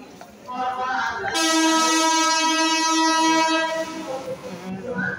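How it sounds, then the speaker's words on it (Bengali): An Indian Railways Black Diamond Express pulls into Bandel Junction, its locomotive horn blaring in one long, loud, sustained multi-tone blast over the rumble of the arriving train and a busy platform. "ট্রেন ঢুকছে"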